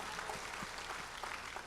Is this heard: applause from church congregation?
yes